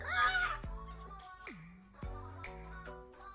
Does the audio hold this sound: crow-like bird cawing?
yes